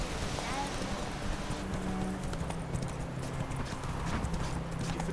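Roach, the horse in The Witcher 3, gallops in a fast, steady run of hoofbeats that continues unbroken over the game's background sound.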